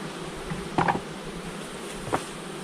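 Honeybees buzzing around an open hive during fall hive work, a faint steady drone with a few brief louder passes of individual bees close by, no talking.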